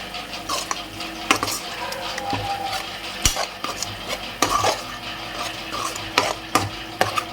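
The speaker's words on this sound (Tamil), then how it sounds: "இது கொஞ்சம் நல்லா வதங்கட்டும்." Curry leaves and asafoetida sautéing in a pan for coriander rice, with a steady sizzle under frequent sharp clinks and scrapes of a spoon stirring against the metal, close and fairly loud.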